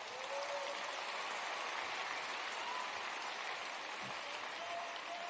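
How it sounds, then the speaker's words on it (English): Audience applause at President Trump's address at Wheeler High School in Marietta, Georgia, steady dense clapping throughout that sounds almost like rain, with no talk over it. "let's give Jeff Sprecher a round of applause."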